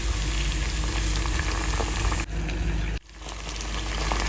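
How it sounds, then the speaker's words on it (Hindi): Saag greens sizzling steadily in a hot oil tempering, loud and close, with a brief break where the frying sound drops before returning. "इस साग को 2 मिनट और हम फ्राई कर लेते हैं"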